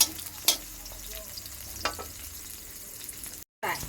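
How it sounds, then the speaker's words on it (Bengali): Chopped onion frying in a pan of oil and being stirred, a soft steady sizzle broken by a few brief clatters of the spoon, with a short dropout near the end. "পেঁয়াজ কুচি দিয়ে দেব। ভালোভাবে নেড়ে নিলাম।"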